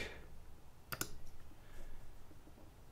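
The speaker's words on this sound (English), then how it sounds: "So I'll just select it, right click," Computer mouse clicks while right-clicking in CAD software, a crisp pair of close, quick clicks near the start followed by faint, scattered lighter clicks against a quiet room background.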